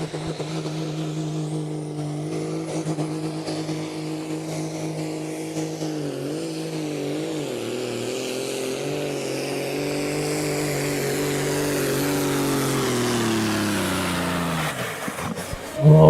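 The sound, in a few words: Evil Deceiver pulling tractor engine during pull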